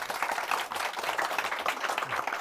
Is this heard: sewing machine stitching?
no